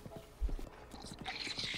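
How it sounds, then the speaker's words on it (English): Horses' hooves clip-clop in Zelda: Breath of the Wild, a run of light rhythmic hoof knocks at moderate distance mixed with game ambience and a brief low thump. "Why are there horses just randomly here?"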